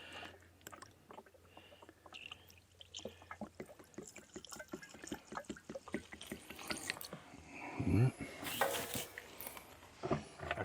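Liquid is poured into a white Freightliner truck with a Detroit engine, dripping and trickling in uneven bursts, with some louder splashes and clunks near the end, fairly quiet and close.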